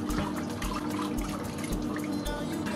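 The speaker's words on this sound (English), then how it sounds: "Now you rinse your face, oh." Tap water runs continuously into a sink while a face is rinsed, a close, steady splashing with irregular drips and small surges.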